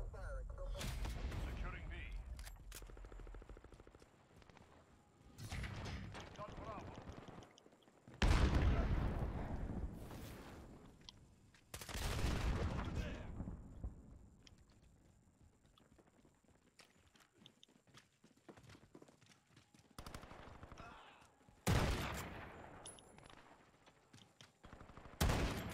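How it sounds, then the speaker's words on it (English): Gunfire in Call of Duty: Modern Warfare, with repeated loud bursts of shots and rattling volleys spread across the stretch, separated by quieter gaps with background game sound. "it sounds like it's a gun going off"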